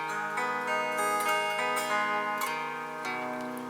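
A pedal steel guitar rings out a sustained minor chord, smooth and full, with the pitch shifting subtly as the chord changes partway through.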